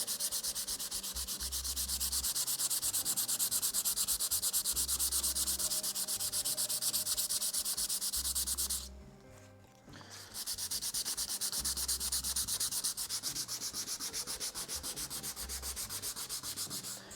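Steady rasping of sandpaper rubbed back and forth by hand, rounding over wood edges, close and continuous, with a brief pause midway before the scratchy strokes resume.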